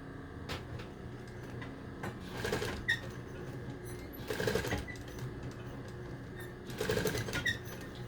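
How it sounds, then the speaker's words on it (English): A sewing machine back-stitches a tack over fabric ties, three short bursts of rapid needle whirring separated by the softer hum and handling noise of the machine at rest, close and moderately quiet. "a tack on your machine is just stitching over top of it, back stitching maybe 3 times"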